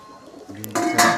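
A single soft coo of a Rajshahi local Giribaz pigeon rises close by, brief and low, against a quiet background.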